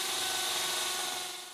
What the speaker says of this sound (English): Back on land, we drill a hole into the rock